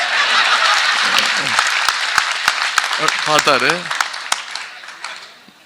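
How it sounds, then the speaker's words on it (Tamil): Scattered, sharp claps ring out from a Tamil audience during the Chief Minister's speech, heard under his loud voice and tapering off toward the end. "நீங்க கைத்தட்டி என்ன மாட்டி விட்டுறாதீங்க."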